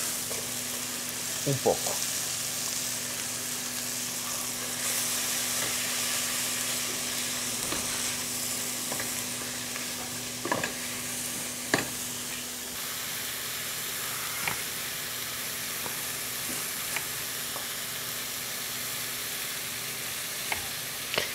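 Sliced mushrooms sizzle steadily in a hot pan with a constant bright hiss, while a utensil stirs them with periodic scraping clicks. A voice speaks briefly.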